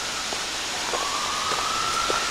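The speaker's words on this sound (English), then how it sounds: "Yeah, hear the sirens." A faint emergency vehicle siren wails in the distance through a city gorge along Wissahickon Creek, its thin steady tone drifting over a constant hissing background.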